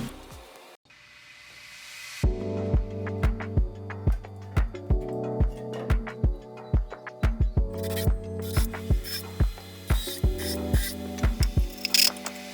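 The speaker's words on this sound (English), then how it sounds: "I completed the sandwiching by securing a partition with 2-inch wood screws up and down the posts" A power driver sinks 2-inch wood screws into plywood caddy posts in a run of close, loud whirring bursts, each ending in a sharp bite, with brief pauses between them.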